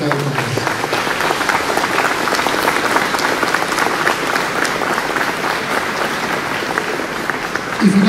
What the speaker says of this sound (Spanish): que les brinden un fuerte aplauso